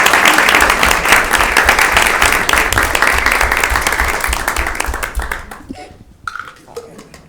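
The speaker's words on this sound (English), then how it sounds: "give her a round of applause." Audience applause fills a school building committee meeting, steady dense clapping that fades over the last couple of seconds into a quiet room.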